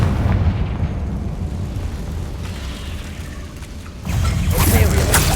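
A Confringo blasting curse explodes in a Harry Potter video game, a rumbling blast that settles into a lower roar before a second burst of crackling impact near the end.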